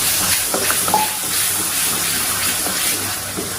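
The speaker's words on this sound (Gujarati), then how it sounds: "પાણી નાખી દેવાનું।" Water is poured into ground spinach in a cooking pot for garlic palak paneer. It makes a close, steady hiss mixed with bubbling sizzle and a few small knocks.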